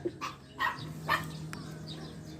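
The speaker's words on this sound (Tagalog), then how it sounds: "may aso guys" A dog barking outdoors, three quick faint barks spaced about half a second apart, followed by a low steady hum.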